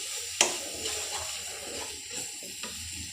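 Spices being stirred in a cooking pan for an aloo ghati dish: soft scraping and a steady low sizzle, with one sharp clink of a utensil against the pan near the start.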